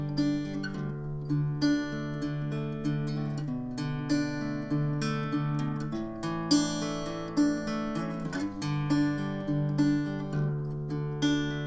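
Guitar plays the chorus of a song with a steady stream of picked chord notes and sliding shapes, clear and close with no voice over it.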